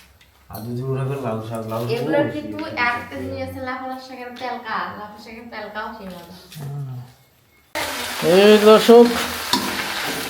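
Leafy greens frying in a pan give off a hissing sizzle, mostly buried under a nearby voice talking and turning louder and clearer near the end.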